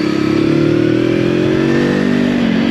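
A 2023 VOGE 525 ACX motorcycle accelerates with a loud, close engine drone that rises steadily in pitch as it pulls hard, heard alone over rushing wind.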